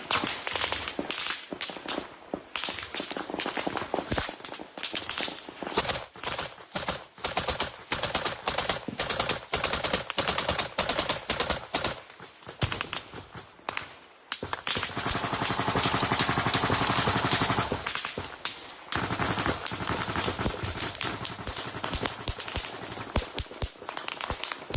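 Machine gun fire in Ukraine war footage comes as dense bursts of rapid cracks, broken by short pauses and a longer gap, then resuming with sustained loud firing, with no voices.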